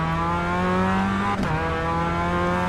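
A race car engine drones at high revs with a steady tonal whine, briefly dipping as the gear shifts, loud and continuous.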